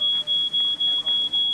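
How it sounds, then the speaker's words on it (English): A smoke alarm set off by burnt toast in a video game beeps loud and close in a rapid, steady series of about six pulses, with no one talking. "We need to do something about that alarm."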